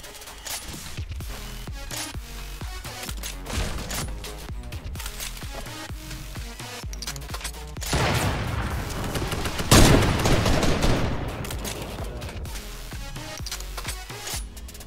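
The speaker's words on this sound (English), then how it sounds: "I'm gonna shoot you again." Gunfire in the battle royale game Fortnite: rapid crackling shots in repeated bursts over a busy game soundscape, swelling into louder blasts and a sharp impact near the end, with no talking.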